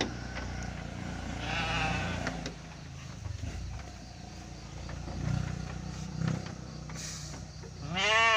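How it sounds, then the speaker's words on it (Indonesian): Garut sheep bleating during lambing on an Indonesian farm, several wavering bleats scattered through the stretch, one long loud bleat close by at the end, over a steady low background rumble with faint engine noise. "Nih domba-domba yang ada di Mutiara Kanang, sahabat Irfan."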